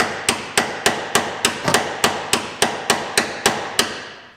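A hammer pounds a rusted bolt out through a bushing on an old Mopar, giving about fourteen evenly spaced, ringing metallic strikes at a steady rhythm, close and fairly loud, with no voices.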